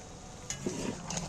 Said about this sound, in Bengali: নাড়াচাড়া করে নিচ্ছি গরম মশলাটা ঘেঁটে নিচ্ছি